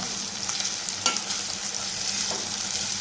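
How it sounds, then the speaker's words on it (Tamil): Small shallot onions fry in a pan for shark puttu, giving a close, continuous sizzling hiss with occasional soft stirring sounds and no talk. "ஆனியன் நல்லா ஃப்ரை ஆகிடுச்சு."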